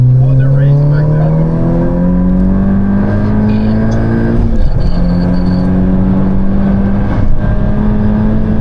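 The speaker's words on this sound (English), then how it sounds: "Oh, they're racing back there." A Honda Civic Si and turbocharged Accords racing, a loud sustained engine drone rising steadily in pitch as the cars accelerate, dropping briefly at a gear change before climbing again.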